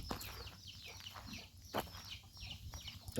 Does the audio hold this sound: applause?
no